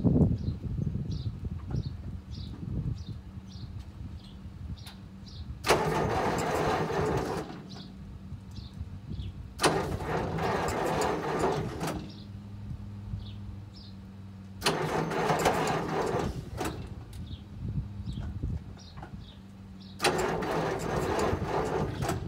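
A Massey Ferguson 1800 tractor, long idle and hooked to jumper cables, cranks over in four separate bursts of several seconds each with pauses between, the starter churning loudly but the engine never catching, while birds chirp faintly in the background.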